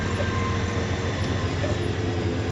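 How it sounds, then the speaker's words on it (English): A train rolls past on a railroad near a farm, producing a loud, continuous rumble and rattle of wagons that stays steady and close throughout. "Look at the train!"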